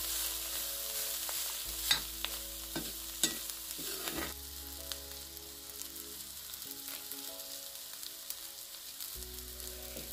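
Wild kantoli vegetable sautés with coarse salt in a pan, a quiet continuous sizzle broken by sharp scraping stirs and spoon knocks early on, close up with a low background hum and no talking.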